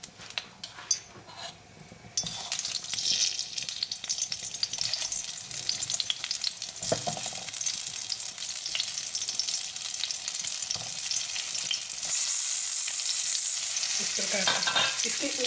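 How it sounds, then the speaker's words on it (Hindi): Stuffed eggplant fries in a little sunflower oil. A hiss breaks out and holds as a steady, fairly loud sizzle, and a few light clinks of utensils sound near the start. "बैंगन को मैंने स्टफ करके रेडी कर लिया है, अब इसको हम सनफ्लावर ऑयल में फ्राई करेंगे"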